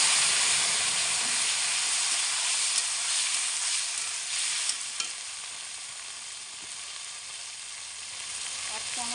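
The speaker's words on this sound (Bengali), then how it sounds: "এবার সেদ্ধ করা আলু আর মটরটা ঢেলে দেবো এর মধ্যে" Boiled potatoes and peas frying in a pan with ginger paste as filling for vegetarian samosas. A loud, steady hiss of sizzling oil fills the clip close up, with a few faint stirring knocks and no talk.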